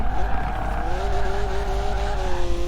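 A 2016 BMW M4 GTS drifts in Forza Horizon 4, its engine droning at high revs while the tyres squeal in a long, sustained skid, loud and close with no talking.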